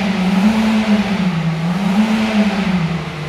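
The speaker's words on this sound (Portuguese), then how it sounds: "estão testando o motor daquele Corolla lá" A Toyota Corolla engine revs steadily during a test, a loud continuous drone whose pitch rises and falls gently in a workshop setting, with no talk over it.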